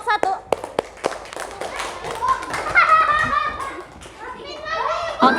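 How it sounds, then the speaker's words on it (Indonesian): A group of children in a classroom bursts into rapid, loud clapping for the first group's presentation, sharp claps at first, then mixing with lively young voices and chatter. "Tepuk tangan untuk kelompok 1"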